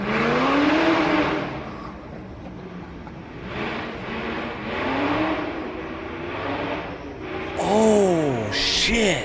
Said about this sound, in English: that might have been the loudest flyby I've ever heard with headsets ever